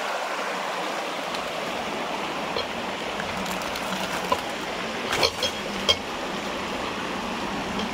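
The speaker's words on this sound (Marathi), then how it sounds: "आणि हे आमचा झरा पाण्याचा." A small farm stream runs steadily through the field, a soft, even rushing wash of water heard close by, with a few faint clicks and knocks near the end and no talk.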